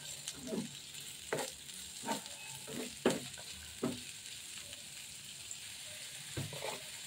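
One and a half cups of chopped onion frying in a small amount of hot oil, a steady soft sizzle broken by several light scraping stirs.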